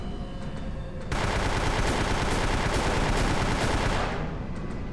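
Sustained rapid gunfire in Vampire the Masquerade Bloodlines, loud and continuous bursts that start abruptly after a second and taper near the end, no talking.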